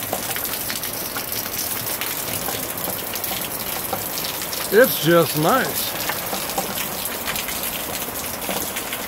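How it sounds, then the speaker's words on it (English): Hard, steady rain falls on a garden with jasmine and grass, a dense even hiss throughout, with a person speaking briefly near the middle. "Thank the Lord for rain."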